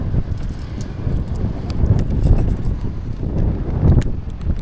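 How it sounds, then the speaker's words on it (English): Wind blows outdoors in continuous gusty rushes that buffet the microphone, a loud low rumble with no one speaking over it. "Windy here too, boys."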